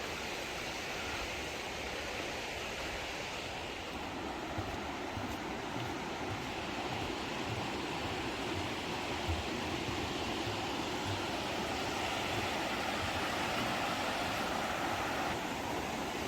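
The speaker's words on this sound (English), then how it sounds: "I'm hoping for a nice view of the waterfall." Steady broadband rush of a waterfall beside a river in Northeastern California, continuous and fairly even throughout with no talking.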